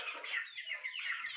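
Hens cluck in a short run of close, fairly quiet calls, several overlapping clucks with no talk.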